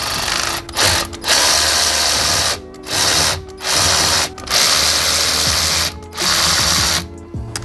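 Ratchet clicking steadily in repeated bursts while tightening the bolts on a purple carbon fiber steering wheel during a car install, close and loud with short pauses between runs.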